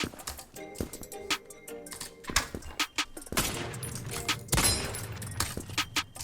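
Rapid gunfire from the Krunker first-person shooter, Hunter class: bursts of sharp shots and impacts, dense and loud, with brief gaps between volleys.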